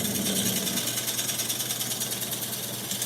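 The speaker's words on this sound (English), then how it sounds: "I can take my gouge on the side edge" Wood lathe spinning a platter while a gouge cuts along its side edge, a dense continuous buzzing and rattling close by with a fast pulsing texture throughout.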